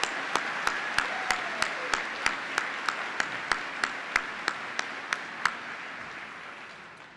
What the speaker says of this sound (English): Please join me now in acknowledging them with your applause.